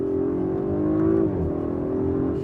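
A 2021 Audi RS5 Sportback Launch Edition accelerating, its engine note droning steadily from inside the cabin, with a brief dip in pitch as it kicks down gears, then holding a strong tone.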